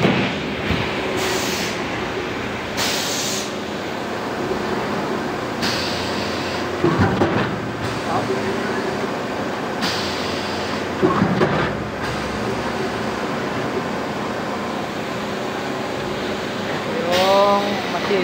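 An automatic die-cut machine cutting paper into envelopes, a continuous mechanical rumble broken by repeated rhythmic thumps and clacks of the cutting strokes, with brief voices near the end.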